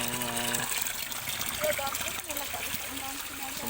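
Water running and splashing at a natural spring, a steady bright wash of flow and spatter with voices talking over it throughout.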